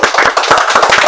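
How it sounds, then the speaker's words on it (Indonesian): A short burst of lively clapping greets a guest in a podcast studio, sharp close claps in a quick uneven rhythm lasting about a second. "Tepuk tangannya."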